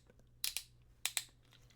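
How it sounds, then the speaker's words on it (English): Two pairs of sharp, close clicks from the plastic joints of a CT Toys Wolverine knockoff action figure as a limb is moved, faint and dry with short gaps between them. "there's not supposed to be ratchets in here, but it's making that clicking noise"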